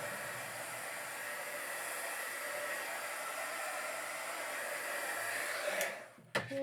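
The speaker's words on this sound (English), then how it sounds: "that's actually my embossing gun. It gets really hot because I just want it to dry fast." An embossing heat gun blowing hot air to dry paint on a craft project, a steady whooshing hum held for several seconds before it switches off with a click.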